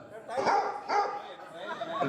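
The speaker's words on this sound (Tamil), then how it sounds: "நாய் குலைக்குது." A dog barks a few times at an outdoor family reunion gathering, short barks standing out over ongoing people's chatter and talk nearby.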